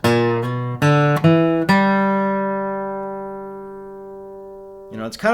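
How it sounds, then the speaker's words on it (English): Acoustic guitar picks a quick run of bright plucked notes of a bluegrass G pentatonic lick, then lets a final chord ring out and slowly decay before a few more notes at the end. "that classic bluegrass lick is going to sound like this"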